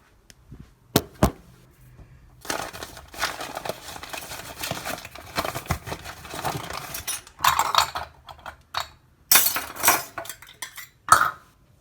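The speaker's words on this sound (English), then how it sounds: "Let's mix in half cup of regular sugar." Half a cup of regular sugar being mixed into cookie dough: intermittent clinks, taps and scrapes of a utensil against a bowl, in irregular bursts with short pauses, close and fairly quiet.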